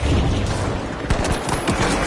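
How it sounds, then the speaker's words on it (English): Shotgun blasts in a shooter video game: a rapid cluster of sharp, loud booms after a second of rumbling background, several shots fired in quick succession close by. "Oh, it's a shotgun, that's how."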